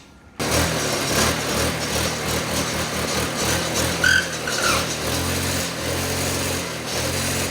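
Custom-built go kart engine fitted with a trumpet exhaust through a rubber hose, running steadily and loud and close throughout, with a sharp tonal honk midway over the continuous buzzing engine drone.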